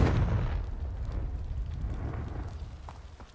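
A Confringo spell explosion from Hogwarts Legacy bursts at once into a loud low boom, then rumbles and crackles as it slowly fades over a few seconds.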